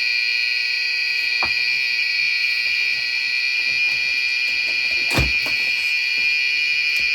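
A UPS alarm sounds as AC power is switched on while the unit is connected to a fully discharged LiFePO4 battery. It gives a loud, steady, piercing electronic tone that holds throughout, with a couple of brief clicks partway through.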